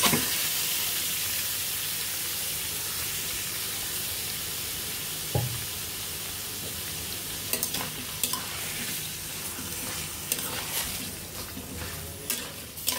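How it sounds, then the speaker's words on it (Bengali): Chicken pieces frying in a little white oil for restaurant-style fried rice, a loud continuous sizzle close up with scattered clinks and scrapes of a spatula stirring, no voices. "এখন ভালোভাবে চিকেনগুলো ভেজে নিতে হবে"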